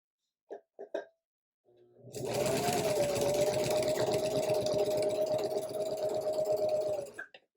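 Sewing machine stitching a quilt: a few soft knocks, then a sustained, even, close-up motor whir with a rapid needle chatter for about five seconds before it stops.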